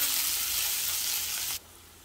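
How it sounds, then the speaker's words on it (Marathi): Onion with ginger-garlic paste frying in a pan for veg pulao, a loud, steady close sizzle that drops away abruptly near the end. "आता कांदा थोडा ब्राऊन होईपर्यंत आपल्याला परतून घ्यायचा आहे"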